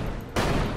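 Gunfire in the video game Elex: a sudden loud burst cuts in partway through, dense and sustained to the end, with no talk over it.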